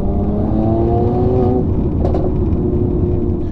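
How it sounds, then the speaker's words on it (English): 2019 Mercedes C43 AMG in Sport+ driving in the rain, a continuous low exhaust rumble with rising engine tone then a steady drone of road and tyre noise, close and loud. "I wanted to hear how the exhaust sound most particularly"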